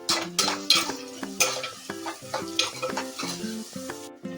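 Curry leaves, onion and green chillies sizzle in hot oil while being stirred, with repeated scraping strokes of a utensil against the pan in a steady rhythm, close and clear with no talking.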